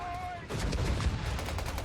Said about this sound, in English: We got enemy artillery. mortars on us.